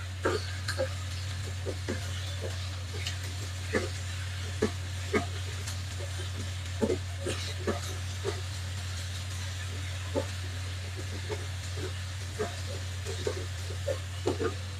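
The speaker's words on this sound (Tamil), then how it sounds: "போட்டு நல்லா கிளறி விட்டுக் கொள்ளுவோம்" Drumstick leaves frying and being stirred in a pan, a soft steady sizzle under a low hum, with scattered light scrapes and taps of the spoon throughout.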